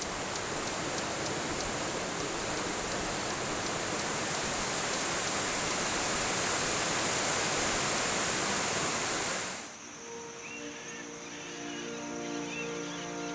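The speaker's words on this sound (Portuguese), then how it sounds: "fomos até a base de uma cachoeira com um formato peculiar" A waterfall pours into a base of folded rock, a loud, steady roar of rushing water that drops away abruptly near the end, leaving quieter water sound with faint background tones.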